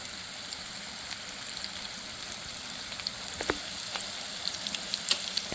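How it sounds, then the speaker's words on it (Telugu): Tomatoes and coriander fry in a pan for chutney, giving a steady sizzle with crackling pops that grow denser toward the end, close up and with no voices. "టమాటా, కొత్తిమీర కలిపి వేర ఉడికించుకుంటున్నాం."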